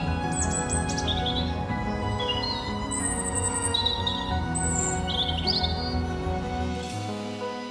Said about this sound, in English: In fact, we can hear the birds chirping around us.